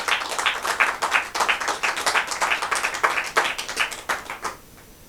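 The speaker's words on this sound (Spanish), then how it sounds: "Dale un aplauso al Señor si quieres hacerlo." A church congregation claps during a sermon, a crisp, rhythmic patter of individual hand claps that carries for several seconds, then stops abruptly near the end.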